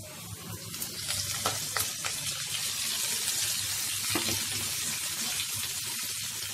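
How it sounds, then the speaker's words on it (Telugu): Chopped onions and spinach sizzle in a pan for a palak egg fry, a continuous close crackle with occasional sharper pops and stirring scrapes. "ఇప్పుడు ఈ ఆనియన్స్ బ్రౌనిష్ కలర్ వచ్చే వరకు ఫ్రై చేసుకోవాలి"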